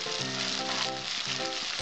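Fried pointed gourd and potato pieces tipped into a hot pan sizzle loudly and steadily, a dense continuous hiss of frying with no voices.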